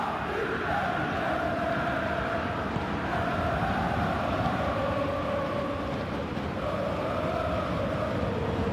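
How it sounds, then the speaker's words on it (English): A stadium crowd roars and chants in a simulated PSG versus Bayern Munich Champions League semi-final, a dense continuous wash of voices that swells slightly, loud and surrounding with no commentary over it. "Crowd appreciates good football all round there."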